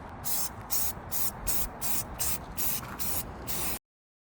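An aerosol spray can applies primer to small model camera parts in a run of about eight short, even hissing bursts with brief pauses, close and clear.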